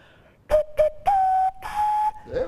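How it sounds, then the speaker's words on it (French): Hollow, tonal whistles blown into cupped hands: two short hoots, then longer sustained notes with a slight pitch rise, close and clear. "je siffle dans mes mains, comme ça"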